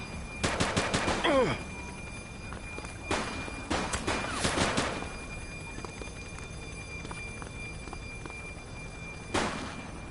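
Gunfire in The Precinct, a police video game: short loud bursts of rapid shots early on, a few scattered volleys midway and one more burst near the end, with quiet ambience between.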